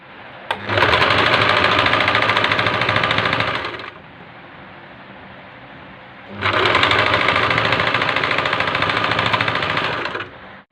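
Two long, loud runs of a sewing machine stitching a black dress with flare sleeves, a fast steady clatter up close, separated by a few seconds of quiet pause.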